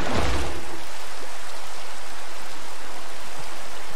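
Flowing water in a video game, a loud, steady rushing stream with a broad hissing wash that holds constant throughout.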